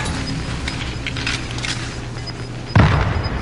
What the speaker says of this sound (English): You gotta use the cannon.